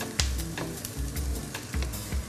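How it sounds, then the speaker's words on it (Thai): Chunks of tomato stir-fry over medium heat in a pan for spaghetti sauce, giving a steady close sizzle broken by repeated scraping stir strokes. "ค่อยๆ ผัดด้วยไฟกลางๆ"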